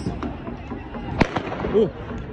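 A single sharp burst pops out midway, loud and close: a tear gas shell bursting during a police clash with protesters in Balkumari, Nepal, amid a noisy crowd with scattered shouting voices.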